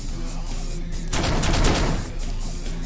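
Video-game gunfire bursts out in a loud, rapid volley lasting about a second over a constant rumbling game background.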